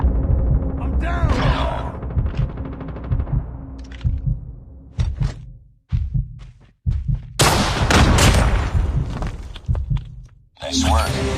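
Shotgun fire in a Call of Duty Mobile 1v1 match: several loud, sharp blasts in irregular bursts, close up among other game sounds and voices.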